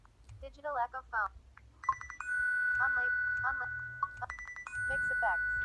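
A digital echo phone ringtone plays clear electronic tones with repeating, echoing beeps, starting after a brief vocal-like intro and sustaining bright tones through most of the clip at moderate loudness.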